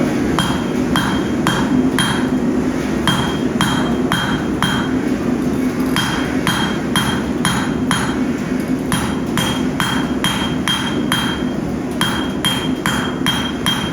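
Steady metallic hammer blows ring out on a leaf-spring steel knife blank on an anvil in quick regular bursts, a ringing clink on each strike over a constant low workshop hum, with no voices.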